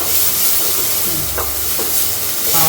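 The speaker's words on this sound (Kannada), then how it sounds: "ಹಾಕ್ಬಿಟ್ಟು ಚೆನ್ನಾಗಿ ಫ್ರೈ ಮಾಡ್ಕೋಬೇಕು" Food fries in a pan with a loud, steady sizzle and hiss, and stirring scrapes break in now and then, close up with no talk.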